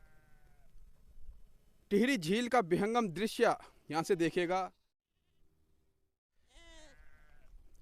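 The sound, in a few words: sheep and goats bleating near Tehri Lake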